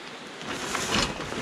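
Rain falls outside a garage as a steady, diffuse hiss that swells slightly toward the end, with no voices.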